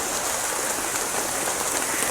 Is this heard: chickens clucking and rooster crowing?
no